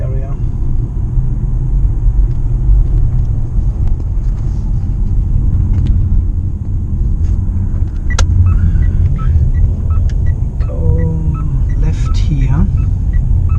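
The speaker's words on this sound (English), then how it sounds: "The engine is still on." A Mitsubishi Outlander PHEV's engine runs while driving, heard as a steady low rumble with road noise inside the car, continuous at a moderate level, with a few faint clicks and sounds above it.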